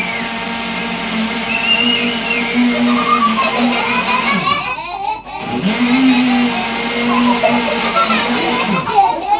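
A blender makes orange juice in a children's classroom, its motor whining loud and steady, dropping out briefly midway, then starting again, with children's voices chattering throughout.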